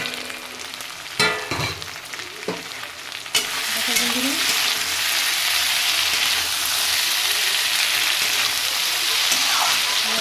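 Spices and radish greens frying in a pan, opening with a few utensil clinks before a loud, steady, close sizzle takes over and continues without a break.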